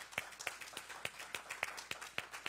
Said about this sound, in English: So let's give a clap for that.